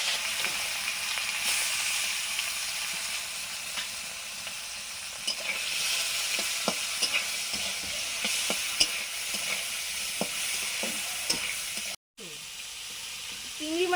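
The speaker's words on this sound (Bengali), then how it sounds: "একদিকে কড়াই চিংড়ি মাছটা আগে ভেজে নিচ্ছি" Prawns fry in a kadai with a constant close sizzle and hiss, broken by repeated scraping stirs of a spatula. The sound drops out briefly near the end, then the frying resumes.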